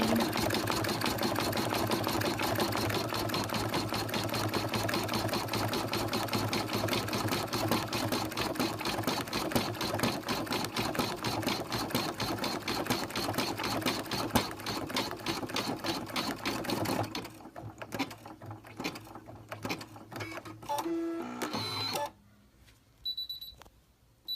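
An embroidery sewing machine stitches in a hat hoop with a steady, rapid mechanical rattle that runs loud and continuous, then breaks into slower, sparse clicks and thumps before stopping near the end.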